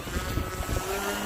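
An FMS Pitts radio-controlled model plane's engine whines during takeoff with a thin, rising tone through wind noise, brief and moderately distant.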